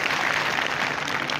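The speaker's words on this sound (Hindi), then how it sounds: "जोर से ताली बजा दो अपने लिए" An audience at a spiritual talk on focused study claps loudly together, a dense sustained burst of applause filling the whole moment without speech.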